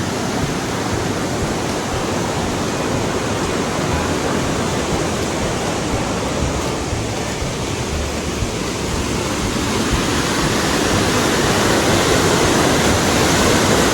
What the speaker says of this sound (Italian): Acqua dappertutto.